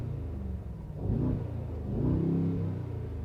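A 2022 Brabus 800 Adventure XLP G 63 pickup with 800 PS, exhaust-flap button off, revs up twice in deep, throaty swells over a steady idle rumble, close by, with no talking.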